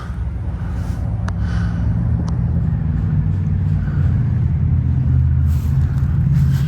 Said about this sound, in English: just ignore the cars